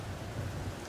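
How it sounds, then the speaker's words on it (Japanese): A nighttime thunderstorm gives a brief, steady wash of rain with a low rumbling undertone of thunder, no voices. "すごい雷鳴ってる"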